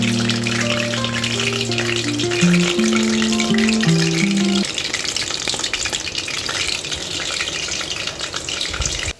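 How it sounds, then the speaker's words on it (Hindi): Green chillies stuffed with masala fry in hot oil, a steady loud sizzle running throughout, with faint background music early on and no talking. "आज मिर्चें फ्राई करते हैं"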